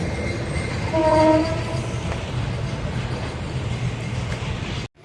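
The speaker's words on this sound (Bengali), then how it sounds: "এই যে ট্রেনটা বের হয়ে গেল আর কি" A train horn sounds briefly near the start, then a steady, moderately loud rumble of the train moving off continues.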